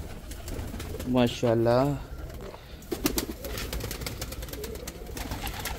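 Pigeons coo in soft rounded bursts while feeding on scattered grain, the calls close and clear around a short spoken exclamation, followed by quieter scuffling and pecking.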